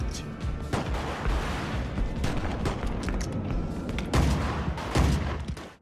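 Rapid gunfire rings out at a shooting range in the video game GTA Vice City, with dense bursts of shots, sharp booming reports and short pauses, loud and close throughout.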